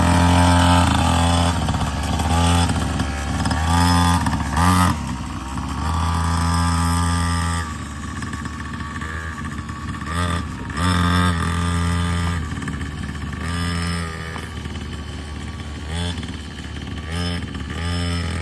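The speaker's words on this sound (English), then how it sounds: "Dreamed to have a vehicle that I can drive inside of my mom's house." Small motor vehicle driven indoors inside a house, its engine buzzing and revving loudly with harmonic whine rising and falling in repeated bursts, close and dominant, with a brief lull midway.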